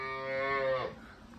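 A young goat kid, whose mother has been stolen, cries with one long, loud, strained bleat, close by, that breaks off abruptly and leaves quiet background.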